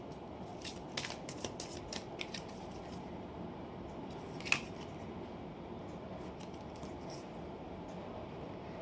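Tarot cards being shuffled by hand, a cluster of quick soft riffling flicks followed by a single sharper snap and a few faint later flicks over a quiet room background.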